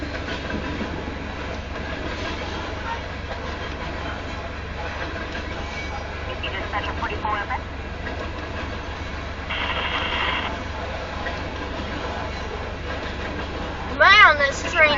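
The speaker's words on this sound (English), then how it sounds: "Man, this train is massive than expected." Union Pacific grain train passing north of Elkhart, Iowa, a steady rolling rumble with rhythmic clickety-clack of wagon wheels over rail joints throughout, a brief squeal near the end, and people talking over it.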